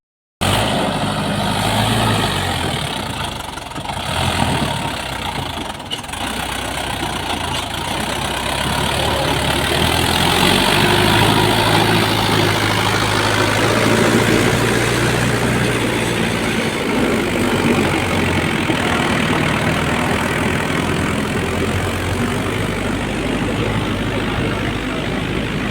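A vehicle engine idles steadily and close by on a rural sand-distribution site in a Maharashtra village, a continuous low rumble lasting throughout with broadband noise and no clear talk over it.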